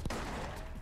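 Rapid gunfire in the Bourne Conspiracy video game, a dense, loud, close burst of shots.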